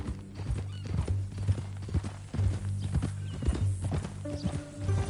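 Horse hooves clip-clop in a steady walking rhythm in Red Dead Redemption 2, with a brief whinny and sustained musical tones underneath.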